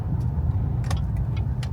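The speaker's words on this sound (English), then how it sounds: "Look at all the cars that are leaving Buc-ees right now." Cars drive past and pull out of a busy Buc-ee's lot on a Sunday afternoon, a steady low engine rumble close by with a few sharp higher noises scattered over it.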